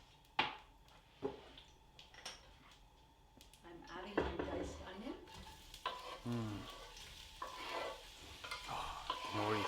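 Onions sautéing in hot lard in a pan, with a steady sizzle and intermittent scraping stirs; people talk over the cooking throughout.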